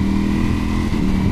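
A Ducati Panigale V4S engine rumbles loudly and continuously at close range, with a brief dip in the drone marking a quick-shifter gear change.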